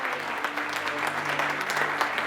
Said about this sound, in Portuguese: Você pode aplaudir Jesus, querido, bem forte.